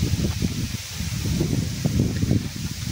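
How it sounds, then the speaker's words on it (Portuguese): Wind rushing through tree leaves in a steady rustle, with soft gusty swells, fairly close and loud, and no voices. "Também está ventando muito aqui, tem muita árvore."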